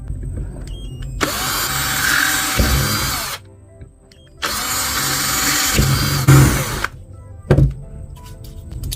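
Electric power drill boring a hole, running in two sustained high whining bursts of a few seconds each with a quiet pause between, followed by short thumps as the bit stops.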